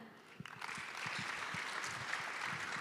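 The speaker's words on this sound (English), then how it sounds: "could you give a round of applause to our guest of honor?" A congress audience applauds the guest of honor, with a few scattered claps at first that quickly swell into steady, full applause.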